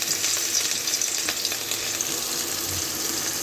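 Hilsa fish pieces frying in hot oil in a home kitchen pan, a steady close sizzle with faint crackling running throughout, no voices.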